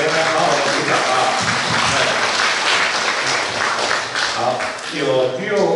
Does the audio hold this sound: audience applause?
yes